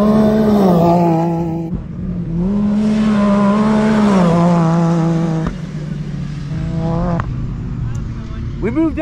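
A Can-Am Maverick R side-by-side roars past up close, its engine loud with rising and falling revs, and a second engine whines and climbs near the end.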